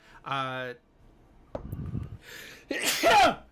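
A single sharp sneeze bursts out near the end, after brief vocal sounds and a pause.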